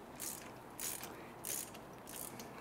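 A ratchet wrench loosening a 13 mm bolt on the front brake of a 2009 Mini Cooper, four quiet bursts of rapid clicking spaced roughly half a second apart, close by with no talking.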